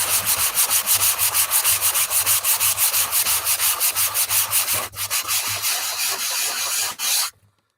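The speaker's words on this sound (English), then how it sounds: "enjoyed having the sand block just because it gives me a little more control" A sand block is rubbed over a craft piece, giving steady close rhythmic scratchy strokes that run continuously for several seconds before stopping.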